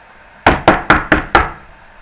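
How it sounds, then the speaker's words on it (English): Police pound on a door with five heavy, evenly spaced knocks, loud and close, with no voices over them. "Mr. Thorne, open this door!"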